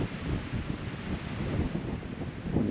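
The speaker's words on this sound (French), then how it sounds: "il y a un vent de bâtard" Strong, steady wind roars and buffets the microphone at a hilltop medieval village in the Aspres, a continuous rushing noise with no voices.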